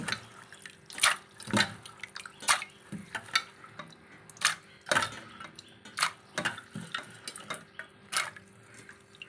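Chickpeas being washed by hand in a pot of water make soft, irregular sloshing and swishing splashes, repeated every second or so at close range and fairly quiet, with no talking.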